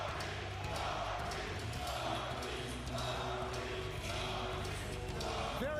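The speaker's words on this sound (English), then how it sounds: "They're chanting his name." A large wrestling arena crowd at an AEW Dynamite event chants Darby Allin's name, a loud, steady roar of voices with rhythmic pulses filling the whole stretch, while a commentator talks over it.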